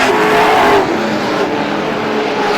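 Race cars at Star Speedway roar past during a GSPSS 100 race, a loud close engine howl at the start easing into a continuous broad roar of the field.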